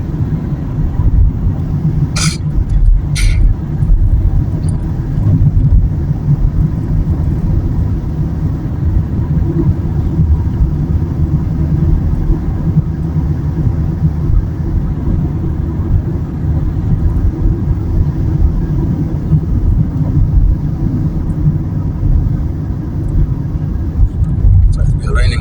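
Steady low road rumble of a car driving on UK roads, continuous engine and tyre noise throughout, with a couple of brief clicks near the start.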